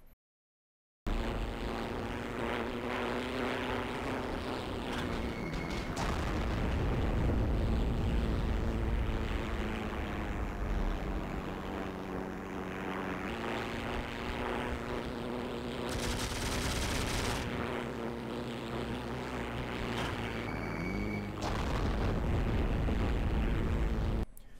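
Bf 109 fighter in the Heroes and Generals game droning steadily as it flies a bombing run, the propeller engine loud and continuous, its pitch shifting throughout, with bursts of gunfire and explosion-like blasts breaking through, no talk.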